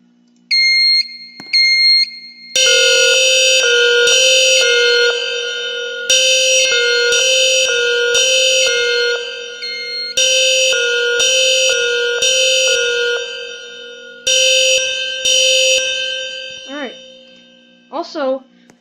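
Fire alarm notifier in a Roblox fire alarm system game sounding loud, repeated bursts of harsh electronic horn tones in an irregular pulsing pattern, with a brief rising sweep near the end.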